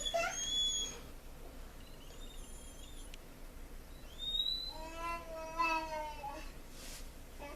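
A dog whimpers in short, high, wavering bursts in the background, heard several times across the clip over a low room hum, with no one speaking.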